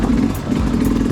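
A dirt bike engine chugs steadily at low speed while riding over rocky enduro terrain, a close, continuous mid-pitched drone with slight clatter.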